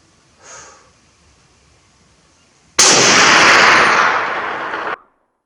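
A single sharp, loud rifle shot from an Inland M1A1 .30 carbine at an outdoor range, ringing out and decaying over about two seconds after a faint earlier puff.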